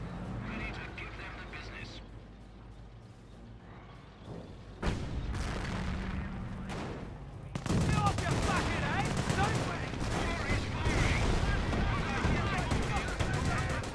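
Bren gun squad firing in the video game Company of Heroes, with sparse bursts early, then dense sustained automatic fire and booms amid a busy battle, with a voice talking over it.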